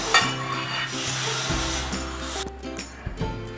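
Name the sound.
mixing mango sauce with calamansi juice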